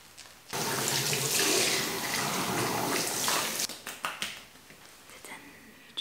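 A tap runs steadily into a sink for about three seconds during face washing, then stops, leaving a few close splashes and drips.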